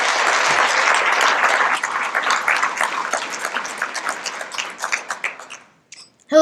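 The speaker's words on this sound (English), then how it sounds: "So why don't you just stand, stretch, a big round of applause for Riley Christensen." An audience at a student keynote event breaks into dense, loud applause that thins into scattered claps and fades to near silence.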